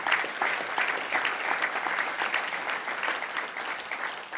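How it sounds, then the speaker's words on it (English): Audience applause at a touchdown club luncheon, a dense, steady clapping from a room full of people that continues evenly throughout with no voices over it. "Let's give them a round of applause."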